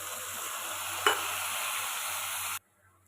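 A ginger, garlic, cumin and turmeric spice paste with potatoes and onions sizzles in a pan, a steady frying hiss with one brief stirring scrape partway through, before cutting off abruptly.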